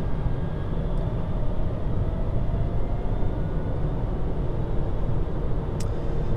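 A four-cylinder Dodge Caliber drives along the road to San Diego in a steady, continuous engine drone blended with road and wind noise from inside the cabin, even and unbroken with no voices.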